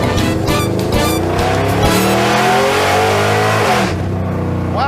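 A loud muscle truck engine revs hard and close, the roar climbing and surging for about four seconds before cutting back, with no talk over it.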